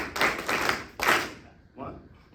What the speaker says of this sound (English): Clap it and try to not to make flams.